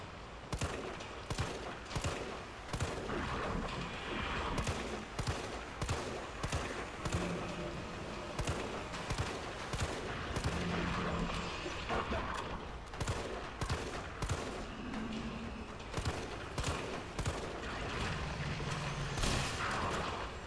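Gunfire aimed at a monster's leg in Resident Evil 3 comes as a rapid series of sharp, repeated shots, steady and fairly close, over a dense background of game noise.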